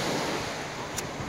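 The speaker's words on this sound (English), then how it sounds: "You see the waves? Little waves. The sea." Small sea waves washing at the shore make a steady, close hiss of surf with some wind noise across the microphone. No one speaks.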